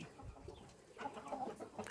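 Faint, close clucking from roosters in a single chicken pen holding eight males, soft low calls scattered over a quiet farmyard background.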